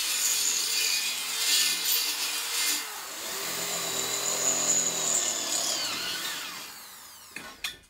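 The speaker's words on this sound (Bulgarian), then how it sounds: "Вземаме старата дрелка на ток и пробиването напредва главоломно." An old corded electric drill bores into concrete, a continuous loud grinding whine with shifting pitch that holds for several seconds, then fades and ends with a couple of short knocks.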